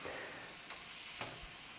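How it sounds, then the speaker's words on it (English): Italian sausage sizzling in a pan over medium-low heat, a soft steady crackling hiss with faint scrapes, quiet and close. "you want it to sizzle, but you don't want it to be too hot"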